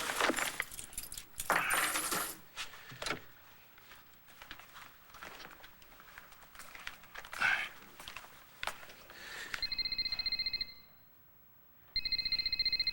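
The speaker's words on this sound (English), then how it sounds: "Papa's gonna make a quick phone call." A telephone is handled to place a call, with close clattering and jangling from the handset, then a steady electronic tone pulsing in two bursts near the end.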